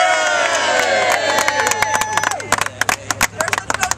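Supporters at a labor rally for a congressman clap and cheer outdoors, a dense burst of hand claps and raised voices that thins into scattered claps and chatter, with a steady low hum underneath.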